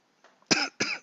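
A man coughs twice in quick succession, close and fairly loud, after a faint breath, with no other sound around it.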